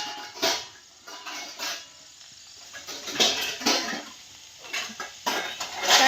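Washed steel pots and utensils clatter and clink in a home kitchen, with repeated close, sharp metallic knocks at an irregular pace and no talking.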